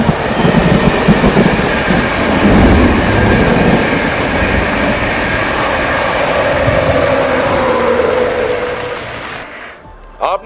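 A fast passenger train rushes by up close with a loud rumbling roar, rattling carriages and a faint wheel squeal, steady for about nine seconds before abruptly cutting out.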